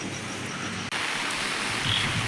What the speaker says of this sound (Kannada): ತುಂಬ ಮಳೆ ಜೋರಾಗಿ ಮಳೆ ಬರ್ತಿದೆ ಇವಾಗ